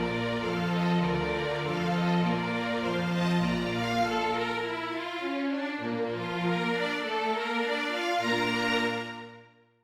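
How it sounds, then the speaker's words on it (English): Orchestral strings play a simple melody over sustained chords in a Romantic symphony style, a smooth, full sound that swells gently and fades out at the end, with no voices. "The strings have a very simple tune on top and simple chords underneath."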